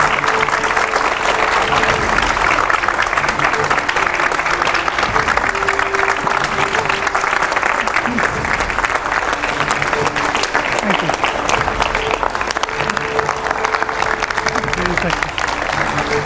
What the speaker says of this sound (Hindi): जोरदार तालियां तेमजिन इमना ओलोंग के लिए